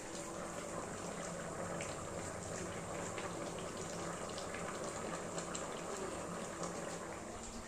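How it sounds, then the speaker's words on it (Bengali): Hot water is poured in a home kitchen for cooking soybeans, making a soft, steady gushing pour that runs unbroken and fairly quiet throughout. "এই যে গরম জল দিয়ে দিলাম"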